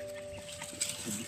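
Clucking of a chicken at a rural house, faint and distant, with a few short soft clucks over a low background hum.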